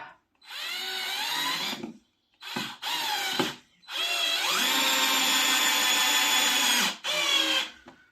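A cheap Parkside cordless drill driving screws with a PZ2 bit, its motor whirring loud and close in several bursts of rising pitch, with short pauses between runs and one long sustained drive.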